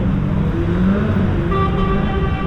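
Street traffic rumbles past in Athens, a continuous close road noise of passing vehicles near a tram line, with no talk.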